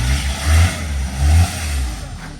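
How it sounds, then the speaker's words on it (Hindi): A car stuck in snow revs its engine in two loud surges, its wheels spinning and slipping, with outdoor noise and faint voices around it. "नहीं निकल रही है गाड़ी,"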